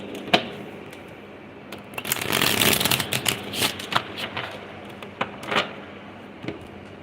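A fresh deck of playing cards is shuffled close up: a few sharp taps, then a riffling rush of cards, followed by scattered clicks and soft bridging flutters.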